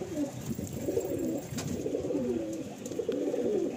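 Madrasi pigeons in a loft coo continuously in low, rolling, overlapping calls, steady and fairly close, over faint background noise.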